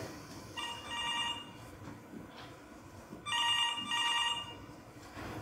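A telephone rings in two bursts of electronic trilling, each roughly a second long, separated by a quiet pause in an office setting; the ringing is moderately loud with no one speaking over it.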